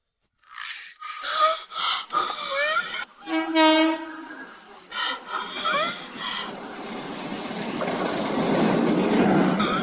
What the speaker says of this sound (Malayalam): അതാ ട്രെയിൻ വരുന്നുണ്ട്.